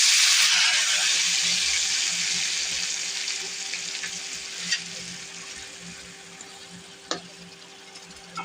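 Lentils stirred into cumin, onion, garlic and dried chilies already fried in a pot, giving a steady broad sizzle that fades gradually, with a couple of faint clinks near the end and no talking.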